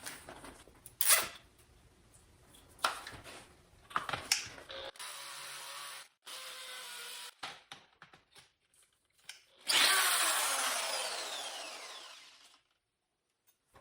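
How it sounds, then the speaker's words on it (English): A hammer drill bores an anchor hole in several bursts, with short grinding runs and a longer loud drilling stretch near the end, separated by clatter, quiet gaps and handling noises. "All right, hammer drill, and let's give that a go."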